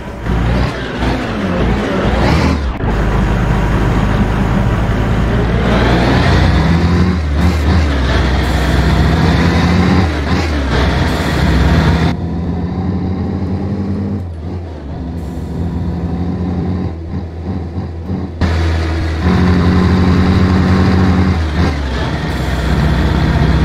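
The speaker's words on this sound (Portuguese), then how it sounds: "Bora lá dentro do jogo lá para vocês darem uma conferida no ronco do caminhão." Fiat 619 4x2 truck engine in Euro Truck Simulator 2, a loud, sustained diesel roar that rises and falls with revving, drops abruptly at moments and then returns, with a hiss like an air brake at one point.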